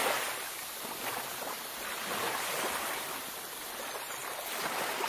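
Beach waves wash in a steady, broad hiss of surf with soft swells rising and falling, close and continuous, with no voices over it.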